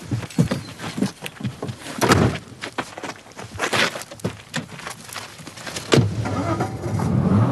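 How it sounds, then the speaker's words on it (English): A car door thunks shut and the engine pulls away, the noise rising into a steady roar as the vehicle accelerates off. "The car drove off at speed."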